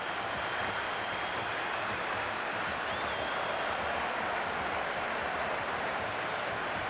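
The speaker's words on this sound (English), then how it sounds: "There's an almost tangible fervour throughout the crowd at the moment." Stadium crowd in an IPL cricket video game match between Lucknow Super Giants and Chennai Super Kings, a constant dense roar of many voices and cheering that holds steady throughout without letting up.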